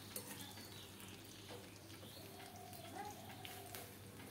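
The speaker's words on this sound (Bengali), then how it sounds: "রসুন আমার ভাজা হয়ে গেছে।" Faint, steady sizzle of garlic frying in a pan, a soft continuous hiss with occasional light stirring scrapes and no voices.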